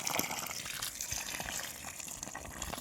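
Water poured over chilli plants in a garden, a steady gushing splash that runs without pause, close and fairly loud, with no talking.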